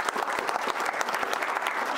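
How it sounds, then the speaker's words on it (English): Audience applause for a boys' swim team at a school board meeting, a steady dense clapping across the whole stretch with no voices over it. "give those boys a round of applause"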